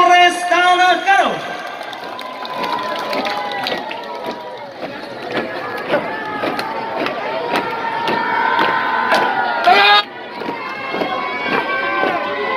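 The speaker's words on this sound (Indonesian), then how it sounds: "Sekali lagi kita berikan tepuk tangan untuk barisan Polres Tanah Karo." Crowd applauding and cheering for the Polres Tanah Karo police parade marching at a regency Independence Day celebration: steady clapping and scattered shouts under continuous announcer speech and music-like tones, fairly loud throughout.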